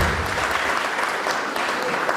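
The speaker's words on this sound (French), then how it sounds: "je voudrais solliciter vos applaudissements," Audience applause at a book signing and literary event, a steady dense wash of clapping from a room full of people, loud and continuous throughout.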